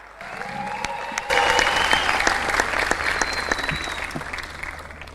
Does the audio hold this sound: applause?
yes